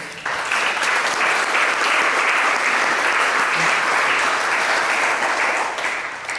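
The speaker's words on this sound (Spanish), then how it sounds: "Un aplauso para ellos." An audience at a book presentation applauds steadily, a thick, even wash of clapping that holds for several seconds before easing slightly at the end.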